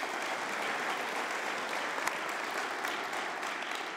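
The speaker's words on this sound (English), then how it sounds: "I want to have a big applause for all of you that have contributed to this version of the" An audience applauds contributors to a data spaces blueprint, steady dense clapping filling the room at a moderate, even level throughout with no pause.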